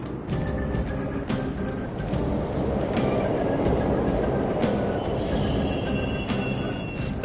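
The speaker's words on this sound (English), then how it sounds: "The trains are totally running!" Subway trains running in the video game Persona 5 Royal, a steady rumbling rail roar with clanking rhythmic hits and a faint squeal near the end, continuous and fairly loud, no talk over it.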